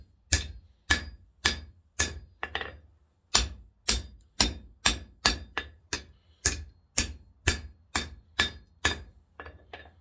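A steel strap hinge being hammered into a bend on an anvil: sharp, ringing metallic blows in a steady, evenly spaced rhythm, about twenty strikes with one short pause, close and loud with no talking.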